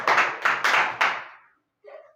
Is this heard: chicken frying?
no